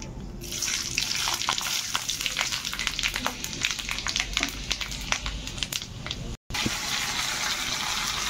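Panch phoron spices frying in hot oil in a home kitchen pan, a dense steady sizzle with sharp crackles and pops throughout, close and fairly loud, briefly cut out near the end.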